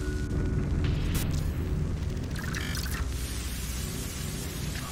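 A bomb detonates in the video game Zero Hour, a heavy booming blast with a rumbling roar that keeps up throughout and brief crackling bursts partway through, loud and continuous without voices.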